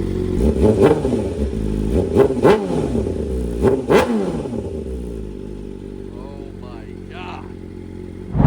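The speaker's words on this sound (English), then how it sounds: "you guys heard the exhaust at idle" A BMW M1000RR motorcycle with a loud aftermarket exhaust revs in several sharp bursts, loud and close, with a low rumbling idle between throttle blips and someone talking briefly near the end.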